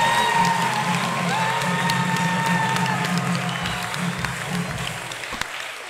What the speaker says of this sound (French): Partenaires, maintenant acclamez pour la chorale.